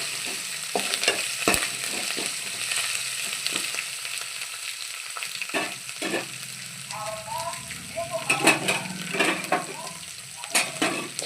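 Onions frying in a pan for a ridge gourd curry, with chopped green chilli, curry leaves and seeds, a steady sizzle broken by scrapes and clinks of a spoon stirring against the pan.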